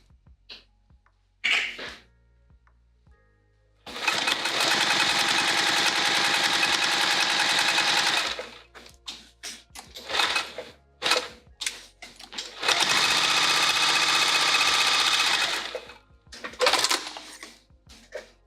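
A sewing machine stitches through layers of quilting vinyl in two loud, steady bursts, each several seconds long. Between them come brief clicks and handling knocks in the quiet.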